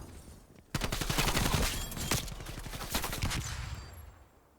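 Rapid automatic gunfire in Call of Duty Cold War, a dense burst of close shots starting abruptly and rattling on for about three seconds before tapering off.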